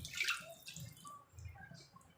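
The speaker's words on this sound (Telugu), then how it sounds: "మిక్సీలో ఉన్న వాటర్ కొంచెం కడిగి పోస్తున్నాను." Rinse water from a mixer jar poured into a pan on the stove, splashing and dripping in a few soft bursts across about two seconds, fairly quiet and close.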